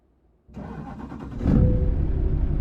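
A Scania S730 V8 truck engine in Euro Truck Simulator 2 revs up from a low rumble, then roars louder and steadily as it accelerates, close and dominant with no voices.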